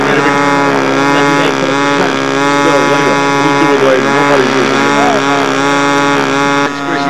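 Radio-controlled model plane engine flying at a world championship event, a loud, steady high-pitched buzzing drone with slight pitch wavering throughout, close and continuous with no talking.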